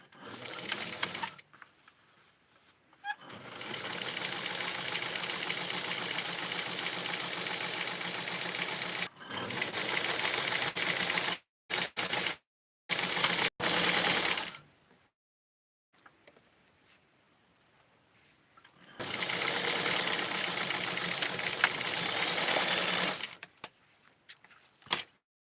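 A serger runs in long buzzing bursts while stitching doll pants from a Barbie Japanese exclusive pant set, with several short rapid stops and starts in the middle and quiet pauses between runs.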